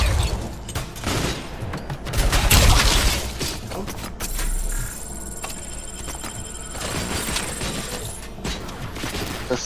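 Heavy, booming gunfire from anti-tank sniper rifles in the video game RoboCop: Rogue City, a dense barrage of loud shots and impacts with a high electronic tone running through the middle of the burst.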